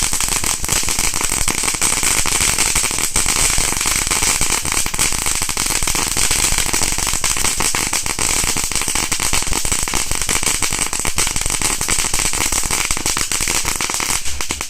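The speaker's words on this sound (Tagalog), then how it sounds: "Dragon Fireworks." Dense, continuous crackling of a dragon firework popping rapidly without pause, loud and close, a sustained sizzling barrage throughout.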